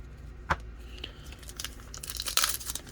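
Pokemon trading card booster pack foil being torn open up close, a quiet crinkling and tearing rustle with a sharp rip at the start and more crumpling toward the end.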